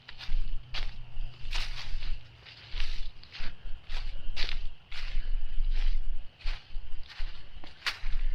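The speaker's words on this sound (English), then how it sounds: "I'm basically going to be walking straight this way." Footsteps along a muddy creek bed with small waterfalls, a series of sharp squelching and crunching steps at an irregular walking pace, close to the microphone over faint running water.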